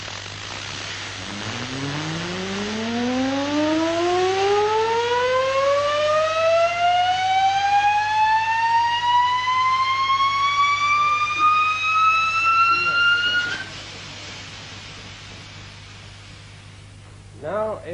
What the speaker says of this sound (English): Now, we'll spin this up, and then I'll take the weight off and ask Mr. Coates